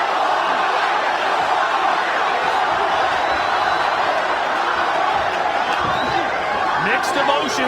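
A capacity crowd fills a boxing arena with a steady, loud roar of massed voices, scattered shouts and whoops rising out of it, while a commentator talks over the noise.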